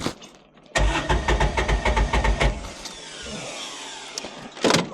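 A Kawasaki Mule 3010 utility vehicle engine cranks with a rapid, loud chugging rhythm for about two seconds, then catches and settles into a steadier running note, with a brief sharp burst near the end.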